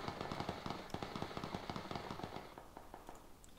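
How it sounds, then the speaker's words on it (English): Rapid bursts of gunfire crackle in the Battlegrounds video game, a quick run of sharp, fairly distant shots that thins out and fades toward the end, with no voices over them. "In fact, there are shots on our backs."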